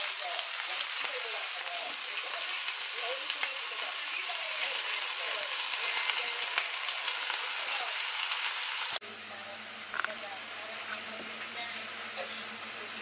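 Mushrooms frying in a pan: a steady, dense sizzle holds throughout, then drops slightly in level partway through as a low hum joins it.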